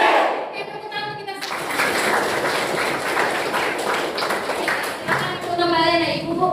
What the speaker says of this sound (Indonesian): bertepuk tangan, lompat, teriak hore, hore. Tepuk tangan kita.